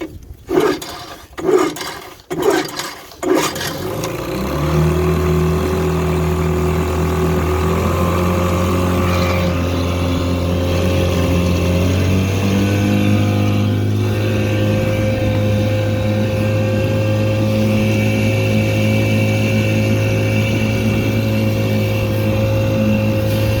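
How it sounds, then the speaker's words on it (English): A small 1954 Super Fastwin outboard motor on a boat is pulled several times, catches around the fifth second, and then runs with a loud, steady droning hum that shifts slightly in pitch. "Let's see if we can start this little guy up and get back to the shore."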